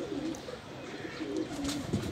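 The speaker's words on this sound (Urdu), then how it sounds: "سارے کے سارے بند دم کے کبوتر ہیں" Band-dum closed-tail pigeons coo softly in a repeating low rolling call, fairly faint, with a few faint chirps and background hiss.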